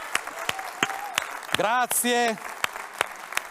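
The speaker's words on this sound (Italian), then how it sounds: "Allora sentiamo un applauso." Scattered sharp claps from an audience at a public business association assembly, sparse and irregular, broken by someone speaking briefly midway.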